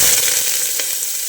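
Thinly sliced onion dropped into hot mustard oil with a bay leaf crackles in a loud, close, bright sizzle that stays steady for the whole moment.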